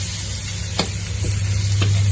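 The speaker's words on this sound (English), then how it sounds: "We fry until they are fragrant." Garlic sizzles steadily in a wok with roast pork over low heat, a loud and close frying hiss broken by a few brief stirring scrapes.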